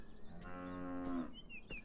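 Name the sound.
cow mooing in the video game Beyond Eyes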